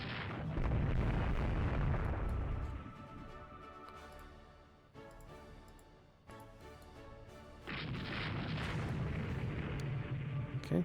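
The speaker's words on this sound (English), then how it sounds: "Okay, he got hit by a torpedo." A torpedo strikes a warship in the naval strategy game Rule The Waves 2, heard as a loud, sustained rumbling boom that fades midway, then swells again into a heavy roar of explosion and artillery-like blasts.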